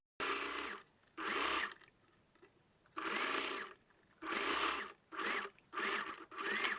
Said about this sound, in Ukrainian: Другу строчку я прокладаю з виворіту в інший край нашої тунельної стрічки